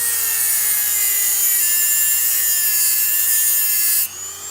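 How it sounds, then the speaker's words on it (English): A tool grinds steadily through hardened steel with a loud, continuous, close-up rasping whine that holds at one pitch, then cuts off sharply near the end, leaving a fainter hum. "It's some sort of hardened steel, man. This shit not want to cut. It's amazing, but it's coming."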